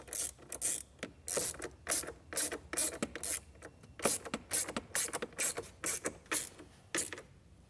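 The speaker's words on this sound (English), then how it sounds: "put them over the post, and tighten the nut back down" A wrench or ratchet tightens a nut down over a terminal post while installing a trailer brake controller in a 2024 Kia, giving a long run of quick, close ratcheting clicks in steady bursts.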